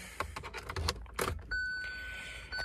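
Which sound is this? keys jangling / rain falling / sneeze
keys jangling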